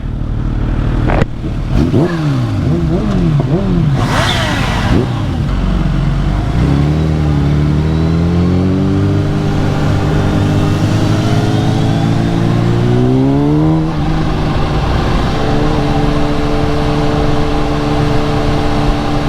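Supercharged Kawasaki Ninja H2 motorcycle accelerating hard through second gear on the street, engine climbing in repeated rising sweeps with a brief shift and steady loud drone, close to the rider with no talk.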